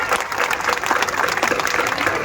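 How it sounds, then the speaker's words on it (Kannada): Loud, dense applause from a crowd honouring small children dressed as patriots at a village gathering, a steady wash of many hands clapping throughout without a break. "ಅವರೆಲ್ಲರಿಗೂ ಒಂದು ಜೋರಾದ ಚಪ್ಪಾಳೆ, ಜೋರಾದ ಚಪ್ಪಾಳೆ"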